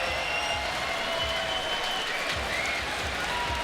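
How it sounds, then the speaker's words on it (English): A crowd at a Street League Skateboarding men's knockout round in San Diego cheers and applauds a skater, a steady dense roar of clapping and voices holding at even volume throughout, with no one speaking up front. "Caio Notaro in the crowd cheering him on"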